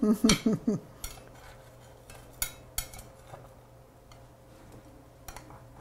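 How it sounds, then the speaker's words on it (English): A pie is sliced and a piece is lifted out of a pie pan. A few short bright bursts come first, then scattered metallic clinks and taps of a utensil against the pan, close and fairly quiet. "Let's slice it nicely. The first piece is always the hardest to get out of a pie pan."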